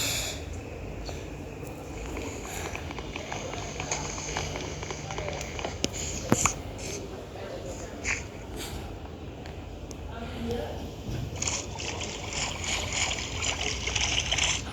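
A boat glides across water in a crafting and building video game. A steady, even wash of water runs throughout, and a voice talks over it.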